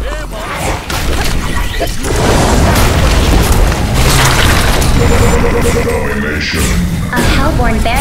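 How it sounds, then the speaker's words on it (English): A loud, booming explosion and rumbling crash as a barracks is destroyed in Heroes of Newerth, layered with dense battle effects and whooshes, while a voice talks over the din. "A Hellborn barracks has been destroyed."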